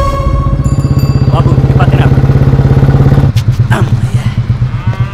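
A motorcycle engine idles close by with a steady, rapid thumping putter, its rhythm shifting slightly near the end.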